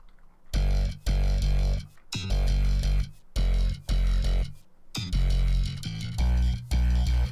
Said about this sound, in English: Scorby J bass slap.